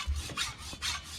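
Steel file rasping along a machete blade in rhythmic strokes, about three scraping passes that sound close and moderately loud with no voices.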